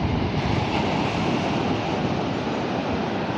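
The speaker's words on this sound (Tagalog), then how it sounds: "Laki ng alon, guys." Big ocean waves crash in a dense, continuous roar of surf, loud and close, with no voices.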